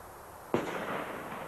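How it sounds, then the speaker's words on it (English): A firework mortar lit with a safety fuse goes off in one sudden, heavy boom at a distance, its rumbling echo fading slowly over the next second. "It allows you a good 9 seconds to clear out of the way before the firework goes off."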